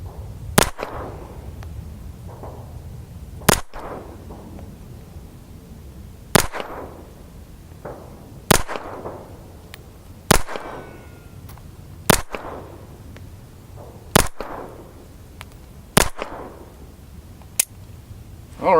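Phoenix Arms HP25A pistol fires ten sharp, loud shots spaced roughly two seconds apart, each a crisp crack with a short ringing tail, no talking between them.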